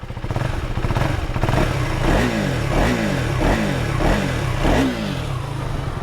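A 2025 KTM 390 Adventure engine fires up in street mode through its underbelly exhaust and settles into a loud, throaty idle, then revs in a series of sharp, repeated blips close by.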